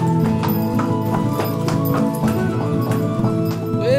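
Horse hooves clip-clop in a steady, regular rhythm at an old Crusader-era site in Akko, the hoofbeats sharp and close over a bed of steady musical tones.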